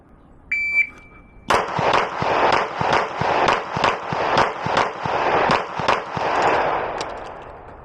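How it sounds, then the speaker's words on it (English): A Glock 19 pistol fitted with a Vantage Point Armory compensator fires at a range in a rapid string of about a dozen loud, close, sharp shots at an even rhythm, preceded by a brief electronic beep. "Let's do a little bit more shooting with it."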